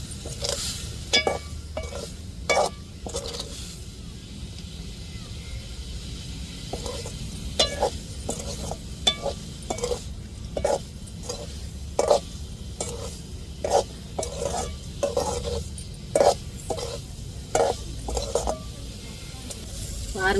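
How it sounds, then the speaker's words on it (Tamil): Tomatoes and onions sauté in a pan with spice powder for an avuli fish roe fry as a spoon scrapes and clanks against the metal in steady repeated strokes, over a soft continuous sizzle, close up. "அப்படியே தக்காளி வெங்காயத்தில் போட்டு வதக்கிடுவோம்."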